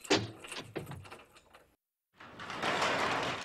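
Several door locks in a cartoon are locked in quick succession, a run of close clicks and mechanical clacks followed after a short pause by a longer, dense rattling of bolts and latches.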